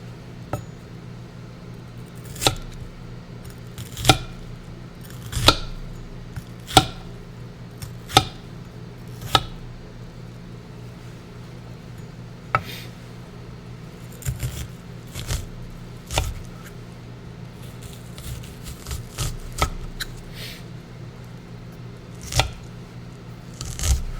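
A knife dicing onion on a cutting board for a Korean-inspired dish, sharp regular chopping taps close up, some in steady runs and some quicker clustered cuts, with no talk.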